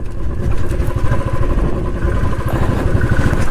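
A motorcycle rides along a dirt track through a rural village, its engine a loud, rough, continuous rumble with clattering bumps from the uneven road, close by and with no one talking.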